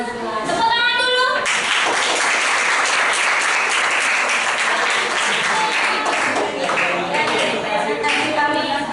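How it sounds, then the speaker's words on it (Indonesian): A classroom audience gives a round of applause during a school presentation on cultural diversity, steady and loud clapping lasting the whole stretch, with some voices mixed in. "Tepuk tangan dulu."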